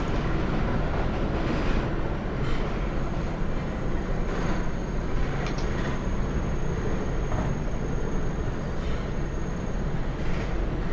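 R160 subway train in the OpenBVE simulator pulling out of 59th Street station, a steady loud rolling rumble and hiss of the carriages with a faint high whine, continuous and unbroken.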